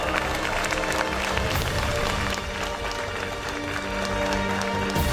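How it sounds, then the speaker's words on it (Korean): Audience applause and cheering at a StarCraft II GSL Super Tournament final award ceremony, a dense continuous roar of clapping from a large crowd, loud throughout with an announcer's voice faintly mixed in. "멋진 경기로 감동을 선사한 이병렬 선수에게 아껴없는 박수를 부탁드립니다"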